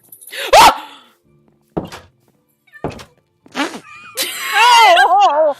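Dog barks from the video game Minecraft, with a loud thunk, a few short sharp yelps, then a longer whining, wavering cry near the end, all in clear game audio with no talking.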